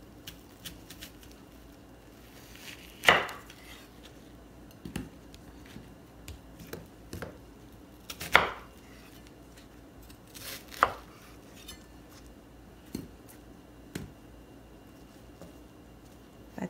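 A knife chops an onion on a board in a few sharp, separate strokes at irregular intervals, with softer taps and handling noises between them in a quiet kitchen.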